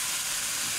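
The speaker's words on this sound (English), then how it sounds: "our pork chops sizzling" A steady, bright hiss of pork chops sizzling in a hot pan, constant and close, with no talking.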